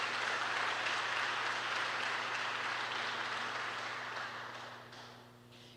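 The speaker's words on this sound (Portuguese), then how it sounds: "Dê um poderoso aplauso para Jesus" A church congregation applauds during a sermon, a soft, even patter of many hands over a steady low hum, tapering gradually as it dies away.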